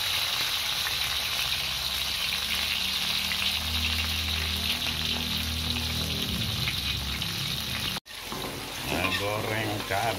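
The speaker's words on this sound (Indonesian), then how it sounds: "Goreng cabai bawang, tomat, ini juga ada terasinya tuh." Chili, shallots, tomato and shrimp paste frying in a pan for sambal terasi give a loud, steady, crackling sizzle close up. The sizzle cuts out for an instant near the end, then resumes.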